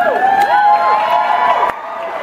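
A convention crowd at a Supernatural panel cheers and applauds, with whoops and shouts over clapping, fairly loud and close before it drops off abruptly.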